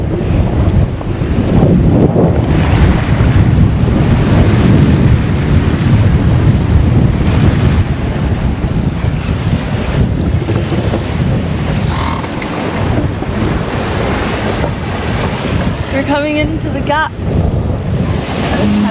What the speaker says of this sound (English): The waves might be more chill, but they're not. If anything, they're bigger.